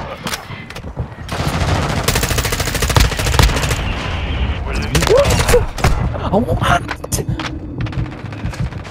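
Dense automatic gunfire from an M4 assault rifle in Modern Warfare 2, loud and close in sustained rapid bursts, with an in-game explosion and a voice briefly speaking over it.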